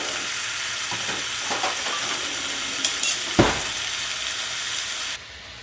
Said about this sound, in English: the smell of bacon frying.